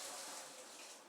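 Warm water pours steadily into a mixing bowl while baking, a continuous soft gushing stream that lasts about a second, faint and without any talk.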